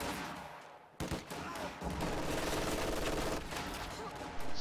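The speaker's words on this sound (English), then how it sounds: "Sniper firing on those rear echelon troops, mortar bombarding them as well." Sniper and mortar fire in the Power Struggle war video game: a sharp report, then dense, continuous distant gunfire and explosive rumble building into a steady barrage.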